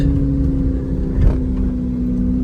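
A Chevrolet C8 Corvette with a failing transmission is driven. Its engine holds a loud, steady, low drone close by, with a brief swell midway.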